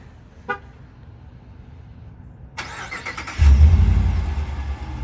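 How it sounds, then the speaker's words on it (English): A Ram 1500 Hemi V8 truck engine cranks and fires up, settling into a loud, deep rumbling idle close by after a brief chirp. "I do love the Hemis. I mean, nice deep rumble."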